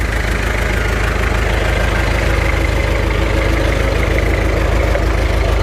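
A rare 340 tractor engine runs steadily at a close, loud idle, with an even low rumble and a knocking beat.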